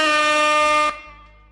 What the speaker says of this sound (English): Give me another air horn